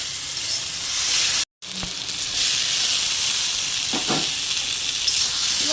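Sautéed potatoes and pointed gourd sizzle steadily in a hot pan of dal, a broad hiss running throughout with a brief dropout and a few soft clinks of stirring.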